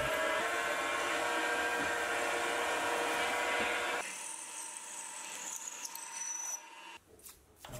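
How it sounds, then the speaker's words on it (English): A mini lathe boring a hole for a locking pin in a steel tool post part, a close, steady grinding rasp that cuts off abruptly partway through and leaves quieter scraping noises. "We can then turn the part 90 degrees and bore the hole for the locking pin and bolt."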